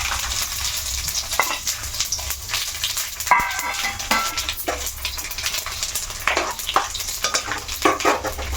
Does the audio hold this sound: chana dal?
yes